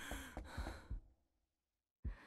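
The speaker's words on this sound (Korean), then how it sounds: "그러니까 숨소리가 왜 이렇게 커?" Heavy, loud breathing in the 3D Ao Oni horror video game: several close, rough breaths in quick succession, a brief silence, then another breath starting abruptly.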